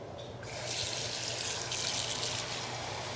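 A kitchen sink tap opens suddenly and water rushes out in a steady, close hiss of running water for the rest of the moment.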